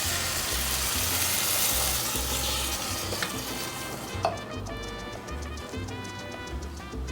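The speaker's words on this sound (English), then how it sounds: "now we're going to add the tomato blended, the one that we blended before" Blended tomato sizzles in a hot pan for vegan chiles en nogada, a dense, loud, continuous hiss that eases slightly partway through, with light stirring scrapes and a low hum beneath.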